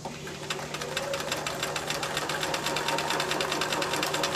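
A sewing machine quilts diagonally across fabric squares with a Sew Easy guide, its needle hammering in a fast, even rhythm of close, steady stitching throughout.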